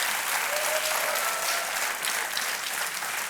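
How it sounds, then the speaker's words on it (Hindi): Studio audience applause on the KBC television quiz show, a steady wash of many hands clapping with even, sustained loudness. "आपको तालियों के साथ हम आपका अभिनंदन करते हैं"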